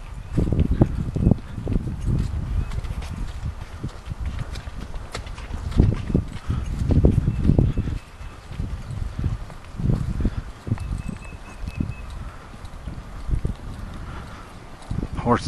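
Horse Chex carrying a rider at a trot out in open country, a close run of rhythmic hoof thuds on ground with wind and occasional voices mixed in.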